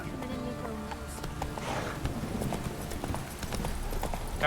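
Horse hooves clip-clop steadily in The Witcher 3: Wild Hunt, a continuous trotting rhythm under a low game ambience, moderately close and fairly quiet.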